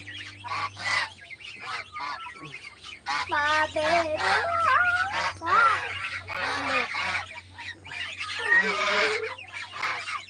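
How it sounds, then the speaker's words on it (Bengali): Loud, nasal honking calls from several birds overlap close by, continuous over a low steady hum. "আমার নতুন হাঁস মনে হয় অনেক বড় হয়ে গেছে"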